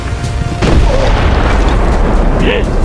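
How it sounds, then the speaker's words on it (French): A ship's cannon fires a single deep boom that rolls on through the rest of the moment, with a voice calling faintly nearby. "Chargez le canon. Canon chargé. Paré à tirer."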